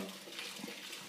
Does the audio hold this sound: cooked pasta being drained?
yes